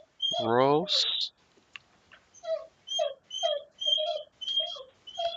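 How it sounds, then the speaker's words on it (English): A pet dog whimpers indoors in a run of short, high, repeated whines, each brief and evenly spaced, with a louder wavering whimper at the start; fairly close and clear, with no talk over it. "That's my dog. Oh, he's missing me."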